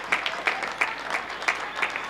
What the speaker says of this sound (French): tous ces applaudissements nous touchent